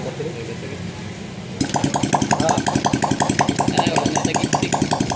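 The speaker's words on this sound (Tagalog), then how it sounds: "Napaandar natin yung motor." Honda XRM motorcycle engine started and running with no exhaust pipe fitted, a loud, rapid, rhythmic popping idle that kicks in suddenly after a quieter stretch.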